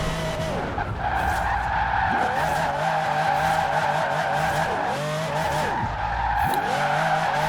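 A Ferrari 599 drifting in Forza Horizon 4, tyres squealing loudly and continuously with wavering pitch sweeps over a steady engine drone, several repeated slides in a row.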